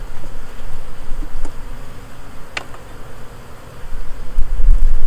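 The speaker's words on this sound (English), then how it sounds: "But these are nice, happy bees." A swarm of honeybees buzzes steadily and loudly up close, a dense droning hum with a few brief sharper passes and low rumbling bumps near the end, with no talking.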